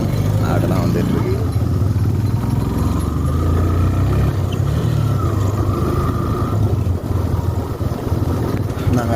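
Two motorbikes riding off-road around dusk, their engines droning steadily and close, with people talking over the continuous motor noise.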